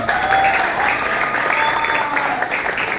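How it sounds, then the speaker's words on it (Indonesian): Loud, sustained applause from an audience greeting the student council chair and vice-chair candidates at an Indonesian madrasah debate, steady dense clapping throughout with a few voices faintly mixed in. "Kasih tepuk tangan dulu."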